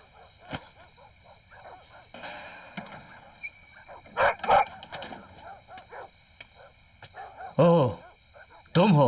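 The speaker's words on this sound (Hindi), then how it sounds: "इसीलिए कुत्ते इतनी जोर जोर से भौंक रहे हैं" Several dogs bark loudly in sharp, uneven bursts, some close and strong, mixed with yips and whimpers, while voices talk between the barks.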